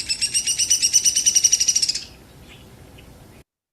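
Hairy or downy woodpecker calling in the woods: a rapid, high, harsh run of about eighteen evenly spaced notes lasting two seconds, then silence.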